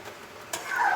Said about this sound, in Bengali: একটু বেশি তেলে এটা ডিপ ফ্রাই করা হচ্ছে, সর্ষের তেলে রান্নাটা হচ্ছে।